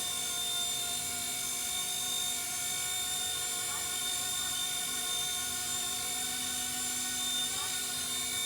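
An MD500 model helicopter flies with a steady high-pitched rotor whine and motor hum, fairly close and continuous, with slight pitch shifts as it hovers.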